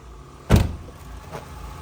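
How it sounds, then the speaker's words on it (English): Hood release of a 1999 Toyota Mark II popped open, a single sharp close thunk followed by a faint softer clunk a moment later, otherwise quiet. "Let's go ahead and pop the hood so we can take a peek under the hood."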